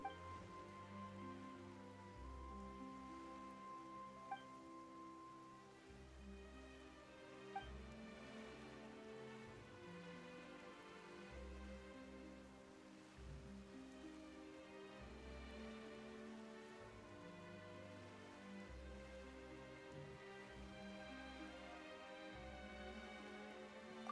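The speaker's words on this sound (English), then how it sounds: "Why is it raining all of a sudden?" Steady rain patters throughout a scene in the video game Genshin Impact, quiet and continuous beneath layered background music.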